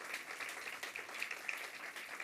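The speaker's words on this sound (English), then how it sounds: "I want everyone to join me in one last round of applause for our esteemed speakers" Faint, distant applause from an audience at a cannabis research institute launch event, a steady wash of hand claps with no clear talk over it.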